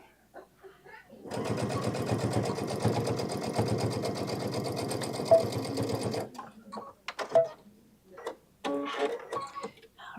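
A sewing machine back stitching a bag at 2.5 stitch length, a fast steady mechanical whirr running for about five seconds, followed by scattered clicks and handling noises.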